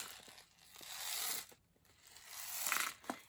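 A small homemade egg shaker holding two pieces of dry pasta rattles in bursts, the pieces skittering and clicking inside with gaps between shakes, fairly close and moderately loud.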